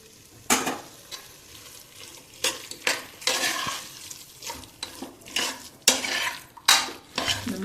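Potato and lentils with turmeric being sautéed in a pan: a soft sizzle underlies repeated sharp scrapes and clinks of a spoon stirring against the metal, coming in irregular bursts, close and without talk.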